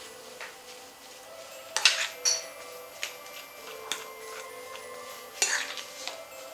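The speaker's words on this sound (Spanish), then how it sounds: "y seguimos mezclando" Potato dough for stuffed Halloween skull shapes being stirred in a bowl, with a few soft scraping and clinking strokes of a utensil against the bowl at an unsteady pace, fairly faint with no talk.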